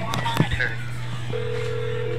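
Telephone keypad dialing tones from a phone calling by accident: a few short beeps, then a sustained steady tone, close and clear over faint background hiss.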